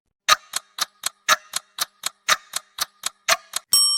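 A clock ticks in a slow, even rhythm, about a dozen crisp ticks heard alone and close up, then a ringing chime at the end.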